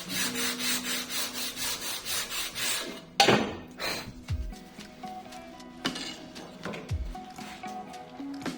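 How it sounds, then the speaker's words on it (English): Repeated rhythmic strokes of a profile sanding beam rasp back and forth on a wooden guitar fretboard, close and steady, broken by a couple of knocks and scrapes. "introduce a 14-inch radius to the fretboard with my profile sanding"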